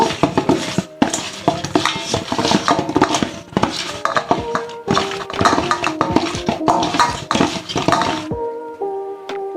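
Fresh river fish pieces being mixed by hand with salt and turmeric in a metal bowl, giving a busy run of close clinks, scrapes and wet clatter with brief pauses, no talking.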